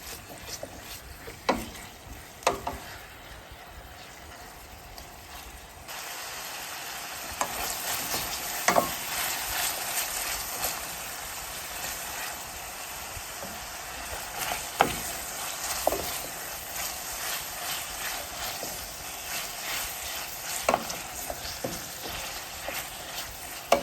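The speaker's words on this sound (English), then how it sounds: "I love the smell of sauteed vegetables. Nothing better than that. The garlic, the thyme, the onions, just perfect." Vegetables with garlic, thyme and onions sauté in a pan, a soft steady sizzle that grows fuller after a few seconds, punctuated by occasional scrapes and taps of a stirring utensil, close and alone.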